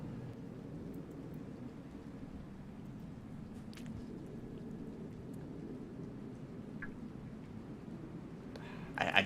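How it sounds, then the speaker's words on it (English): Light rain in the game Rain World, a steady soft hiss of falling drops over a low rumbling bed, even and continuous, with a brief louder rise at the very end. "It always just rains here a little bit"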